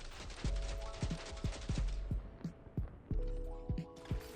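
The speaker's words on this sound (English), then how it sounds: "I also recorded a clip with a machine gun commemoration." A machine gun fires in Destiny 2 on PC: several rapid bursts of sharp shots with short gaps between them, loud and close, with metallic mechanical clicks and no talking.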